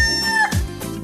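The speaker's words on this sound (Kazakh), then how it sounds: "Әтеш," A rooster crows once in a farmyard animal sequence, a long rising-then-held call with a bright tonal head that breaks into a lower, rougher tail, loud and close with no talking.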